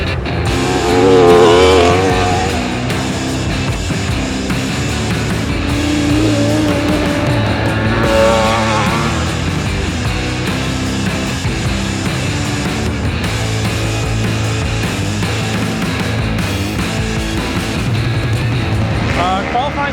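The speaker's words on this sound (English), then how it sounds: "ready to go jump on the Superbike and set the grid, qualify for the Superbike" Superbike on track during a qualifying session with a rider: a high, rising and falling engine roar through gear changes, loud and sustained for the whole stretch, with a voice talking over it.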